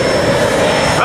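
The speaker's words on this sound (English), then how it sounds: "UPS plane." Heavy roar of UPS cargo plane jet engines at LAX, a steady broadband rumble with a high whine, loud and close throughout.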